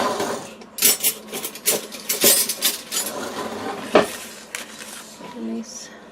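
Metal spoon clinks and clatters against dishes and cutlery as it is fetched and handled in a home kitchen, a few sharp bright knocks spread across the moment, with some background room noise.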